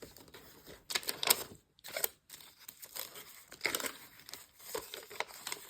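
Sheets of handmade paper crinkle and rustle as they are handled, in irregular bursts of crisp crackling separated by brief quiet gaps, close and fairly soft.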